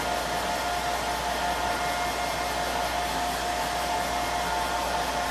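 A hair dryer blows a steady, loud, even whoosh to dry a coat of paint on a metal tray, running without a break for the whole stretch.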